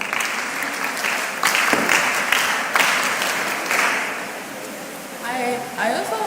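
An audience claps for a participant at a mentorship session on AI and prompt engineering, a dense burst that swells, fades and briefly swells again, with a voice speaking near the end.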